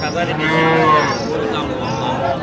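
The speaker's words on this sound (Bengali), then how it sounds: "এইদিকে দেখতেছি যে সাইওয়াল জাতের গরু" A Sahiwal cow at the Raniganj cattle market lets out a long, loud, close moo with a wavering tone, carrying on through most of the moment against faint market background.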